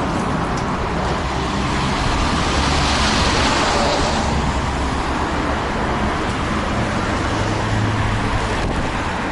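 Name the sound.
trucks passing on a road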